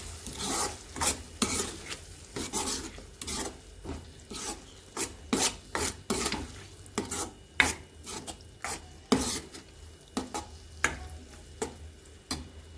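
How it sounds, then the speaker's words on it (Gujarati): A spoon scrapes and stirs through drumstick curry with a sesame and coconut paste in a pan, giving rhythmic rasping strokes about once a second over a soft sizzle, close up and without speech. "હવે આને એકદમ મિક્સ કરી લઈશું."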